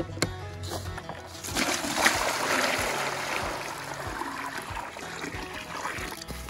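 Water is poured into a sheep's water container, a continuous splashing trickle with a louder gush in the middle, close by and with no talking.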